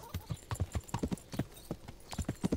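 Horse hooves clip-clop at a fast gallop in the medieval game Kingdom Come: Deliverance, a rapid uneven rhythm of sharp, close thuds running steadily throughout with no talk over them.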